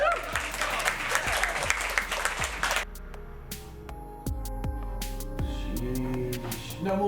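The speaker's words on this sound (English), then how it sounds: "Give it a round of applause." Audience applause at a talk on mental health stigma, a burst of clapping for nearly three seconds that cuts off, followed by music with sharp percussive hits.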